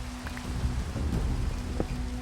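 Steady rain falls in Minecraft, a dense continuous hiss with faint low rumble, moderately loud and uninterrupted, with no talking.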